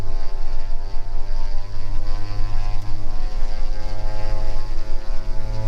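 A G58 piston twin's engines are run up to about 2,200 RPM on the ground, giving a steady, loud propeller drone with a low throbbing hum and no speech.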